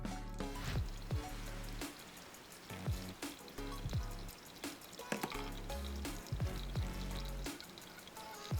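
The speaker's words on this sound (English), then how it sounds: "I'm gonna pour an additional 60 grams of water over the coffee" Water poured over coffee grounds in a Hario V60 brewer, a continuous soft trickle and spatter with faint drips and clinks, close and quiet, no talking.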